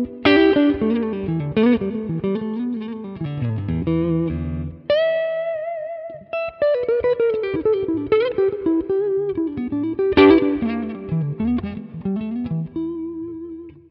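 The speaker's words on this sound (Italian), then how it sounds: "così c'è soltanto chitarra, la simulazione di un Mesa Lone Star e un po' di riverbero" An electric guitar plays through a Mesa Lone Star amp simulation with a touch of reverb, picking melodic lines and ringing sustained notes, loud and alone with no other instruments.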